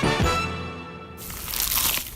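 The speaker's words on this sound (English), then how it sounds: "Is that the sound of an ooey gooey cheesy crunchy slice of P-I-Z-Z-A?" A bite into a crunchy, cheesy pizza slice gives a close, loud crunch and crinkling crackle that carries on for about two seconds with no talking.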